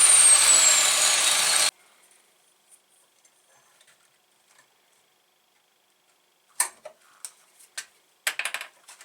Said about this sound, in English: I don't think my angle grinder sounds too healthy.